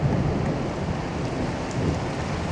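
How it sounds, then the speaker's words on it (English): Heavy rain pours down steadily during a thunderstorm in Grootebroek, a dense continuous hiss with low rumbling underneath, loud and close throughout with no voices. "Yeah, now it's raining."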